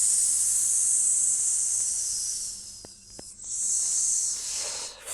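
A steady high hiss of steam rising off a creature's hand as it touches a small crucifix in a horror tale, sustained and fairly loud with a brief dip, no talking.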